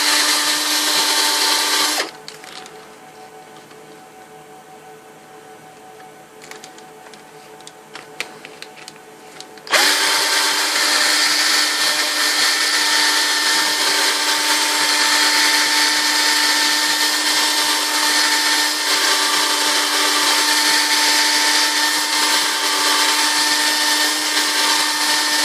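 A power tool whirs loudly and steadily while polishing Nintendo arcade buttons, running briefly, cutting out for several seconds of near quiet, then starting again and holding a constant high buzzing drone through to the end.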